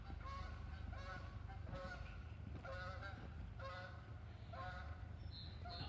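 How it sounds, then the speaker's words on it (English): Geese honking at a lake, with repeated loud calls in uneven bursts over steady outdoor background noise and no talk. "Those are the geese."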